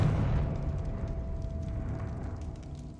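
Confringo fire spell exploding in Hogwarts Legacy, a loud low rumbling blast at the start that decays into a long fading roar with faint debris and ambience.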